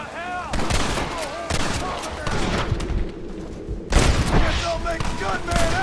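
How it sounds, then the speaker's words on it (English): Rapid gunfire from a Gatling gun in Red Dead Redemption, a dense rattling barrage with loud booms, near and continuous apart from a brief lull, under shouted voices and game noise. "You man the Gatling gun, Marston!"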